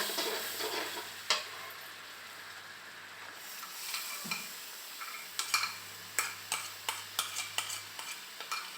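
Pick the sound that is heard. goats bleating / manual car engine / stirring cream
stirring cream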